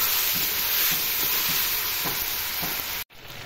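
Marinated pigeon meat fries noisily in hot oil while being stirred, a loud dense sizzle with soft rhythmic stirring knocks. The sizzle cuts out abruptly near the end and then resumes more quietly.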